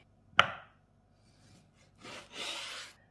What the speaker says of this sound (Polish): mam takie 2 duże kawałki i pokroję je teraz tak, żeby przy kości było trochę mięsa